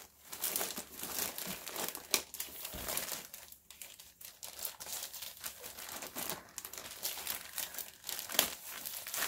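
Craft papers being cut and handled close by, a continuous busy rustle and crinkle with sharper crackles and snips, no talking.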